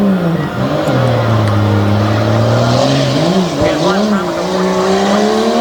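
A rattle-can-painted Jeep Grand Cherokee, built as a race truck, revs loudly on a dirt track at Franklin, Pennsylvania. The engine note rises and falls with the throttle and the tires scrabble, and a commentator talks over it.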